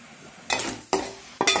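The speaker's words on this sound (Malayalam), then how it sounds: "അപ്പം ഞാൻ ഈ ലാസ്റ്റ് തേങ്ങയും കൂടെ വറുത്തെടുത്ത് അത് മുരിഞ്ഞു വരുന്നിടം വരെ ഒന്ന് വറുത്തെടുത്ത് സൈഡിൽ കോരി വെക്കണം" Coconut pieces and ginger are dry-roasted in a pan for a Kottayam-style puli inji, with three quick bursts of scraping stirred sizzle close by and quiet between them.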